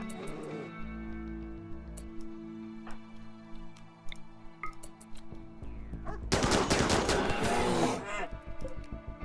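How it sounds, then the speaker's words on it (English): A RimWorld firing squad lined up against a bear lets loose: sparse scattered shots at first, then a loud sustained volley of rapid gunfire, set against steady game music. "this is where we have a big long line of stuff to fire at the bear"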